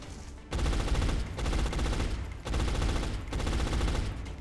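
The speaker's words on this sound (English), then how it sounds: "Suppressing fire." Sustained automatic suppressing fire from XCOM: Enemy Unknown, loud and close, coming in three long rattling bursts separated by short gaps, with no talk over it.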